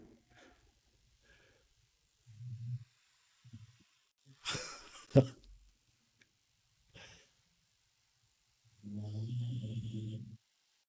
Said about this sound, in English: can you hear the dog snoring?